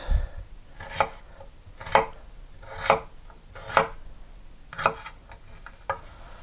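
A knife slices a bell pepper on a cutting board in about seven distinct, evenly spaced chops, each a crisp close thud with a bright crunch, separated by brief quiet gaps.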